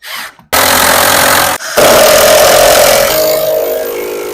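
A Ryobi drill drives screws into wood, starting with a loud whirring burst, a brief pause, then a longer sustained grinding run that slows slightly as the screw seats, close and dominant with no talk.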